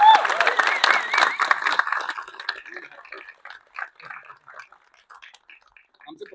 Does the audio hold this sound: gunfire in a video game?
no